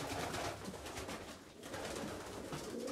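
Racing pigeons cooing inside a pigeon loft, a steady overlapping murmur of soft throaty coos from many birds nearby, with no voices.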